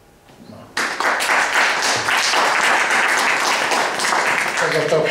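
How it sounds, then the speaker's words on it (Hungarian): A club audience at a health talk breaks into applause after brief speech, dense clapping that starts suddenly and stays loud and even, with a voice returning near the end. "Ez a taps neki szól"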